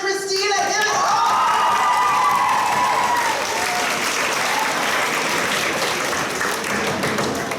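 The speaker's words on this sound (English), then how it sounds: "We are going to welcome to the stage with loud applause and much excitement, Shaylin, Ryan, Caitlin, and Christina." A school audience at a grade 11/12 spoken word event breaks into loud, sustained applause welcoming performers to the stage, a dense crowd of clapping with some cheering throughout.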